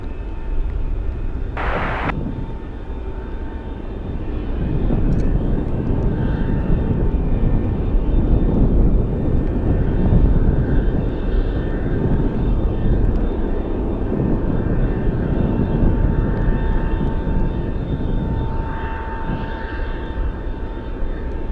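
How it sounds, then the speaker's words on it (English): Heavy cargo jets at Anchorage airport rumble in gusty wind, a broad steady roar holding throughout with a brief sharp burst near the start. "That one flying close to or at its maximum takeoff weight, requesting runway 25 left despite winds favoring 15."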